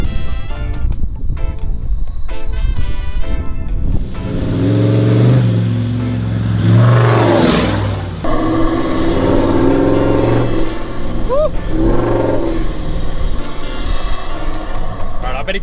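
A 1979 vehicle accelerating hard under boost, its engine surging into a loud, sustained roar that builds and rips over several seconds, with a person talking over the noise.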